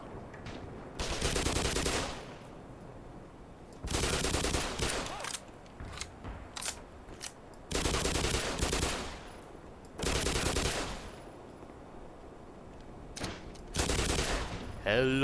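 Bursts of rapid automatic gunfire hit Marines in the shooter game Black Mesa, arriving in several separate loud volleys of a second or two each with quieter gaps between them.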